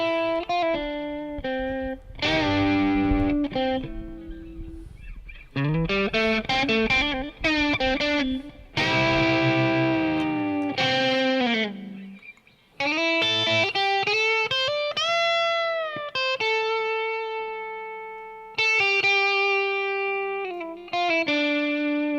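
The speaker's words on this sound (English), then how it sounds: "let me bring the reverb back in, but I'm gonna switch it to a more subtle studio kind of deal" Distorted electric guitar through an Axe-FX plays a series of phrases and sustained notes, each fading into a light, roomy studio reverb tail.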